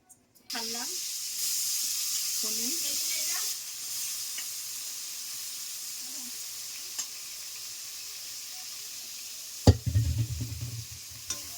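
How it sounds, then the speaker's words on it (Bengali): Paneer pieces fry in a pan with a steady, moderate sizzle throughout, broken by a few stirring scrapes and a louder clatter near the end. "টুকরো পনিরগুলো ভেজে দিলাম এখনো ভাজা হয়নি তো"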